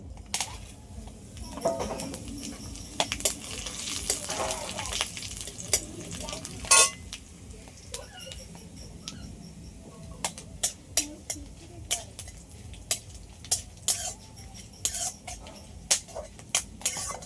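Dried chillies, cumin, coriander seeds and peppercorns fry in oil in a pan, a faint steady sizzle broken by sharp clicks and scrapes of stirring, close and quiet.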